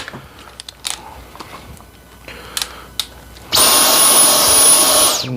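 A Dyson V10 cordless vacuum cleaner with a tool attachment, running on max to clean out its bin, starts up abruptly after a few faint clicks and handling noises, then whines loudly and steadily at close range.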